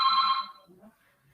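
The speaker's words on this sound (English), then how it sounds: "it's just a phone ringing" A telephone rings once during an online real estate webinar, a bright electronic ring that cuts off after about half a second and leaves a few faint, muffled sounds.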